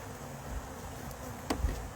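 Agitated honey bees hum in a steady buzzing drone close by, with a brief sharp tap near the end.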